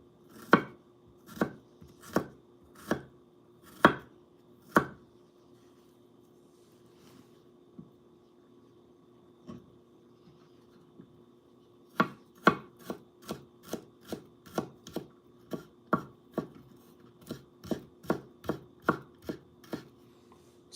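A wet knife chops garlic on a cutting board in sharp, close, even strokes, a quick run of hits, a quiet pause, then a faster longer burst of chopping, no talk.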